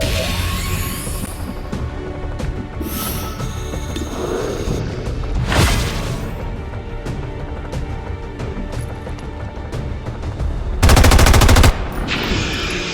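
Rapid automatic gunfire from the XCOM 2 video game, with bursts of machine-gun fire and sharp shots repeating over a continuous loud battle mix, one especially dense burst near the end.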